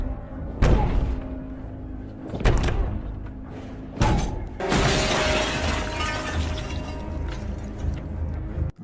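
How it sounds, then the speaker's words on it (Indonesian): In a film scene, a head is smashed repeatedly into window glass: three sharp, loud impacts come in quick succession, and the third bursts into a long crash of shattering glass. "langsung mendagor-dagorkan kepalanya ke kaca jendela hingga dia tewas saat itu juga"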